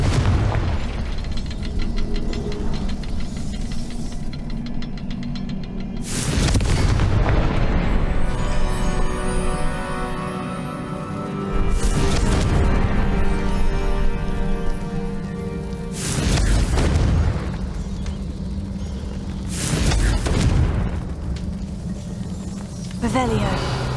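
Confringo fire spell cast repeatedly in the Hogwarts Legacy video game, several loud booming blasts spaced a few seconds apart over a steady musical and ambient game backdrop.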